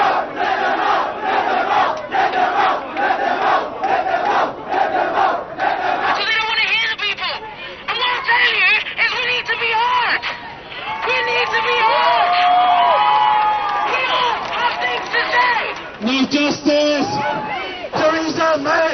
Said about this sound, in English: crowd marches back to Grenfell Tower.